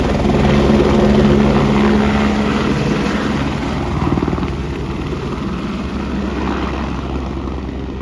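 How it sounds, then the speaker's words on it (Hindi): Helicopter at the Kedarnath helipad in heavy rain, a loud steady rotor and engine roar that eases slightly and holds, with rain noise underneath and no talking. "अभी पीछे से आपको दिखाया मैंने कि हेलीकॉप्टर आया था"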